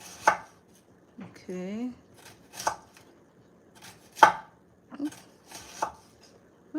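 A knife chops an onion on a cutting board in slow, separate strokes, each a sharp close knock, with a brief word spoken between cuts.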